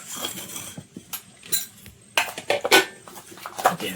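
Grated ginger with cumin and coriander powder stirred together in a bowl, a spoon clinking and scraping against the sides in quick, irregular taps, close and fairly loud with no talking.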